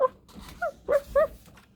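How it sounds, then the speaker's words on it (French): Puppies yapping in short, high little barks, three or four quick separate yelps spaced apart in a quiet setting. "les chiots aboyaient."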